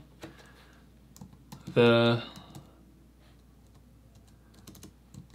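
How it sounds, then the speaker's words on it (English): Computer keyboard typing in a short burst of rapid, close clicks lasting about a second, with someone talking quietly before and after. "I'm gonna take this away, and I'm gonna type out again"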